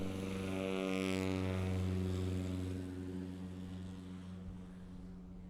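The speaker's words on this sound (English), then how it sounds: "You notice that airplane just has a little different sound, a little throatier." A Husky light aircraft's propeller engine at a STOL competition in Gainesville, Texas, droning loud and close with a deep, throaty harmonic tone that holds steady, then eases slightly as it moves off.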